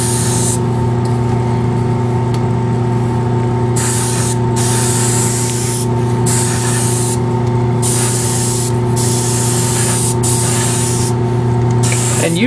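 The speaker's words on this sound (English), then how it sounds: "spray it at a couple different angles to make sure I get all the sides of the fluting covered" An airbrush sprays Alclad II metallic paint onto a fluted resin model in a continuous close hiss, broken by several short pauses as the spray stops and restarts.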